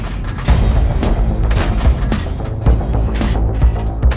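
Autoloader tank cannon fire in World of Tanks: a rapid series of loud, punchy gun blasts at roughly half-second intervals, booming and close, with mechanical clatter between shots and no talking.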